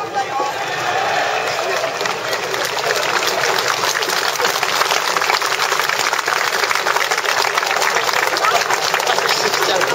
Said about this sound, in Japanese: なんで拍手しちゃうのかな。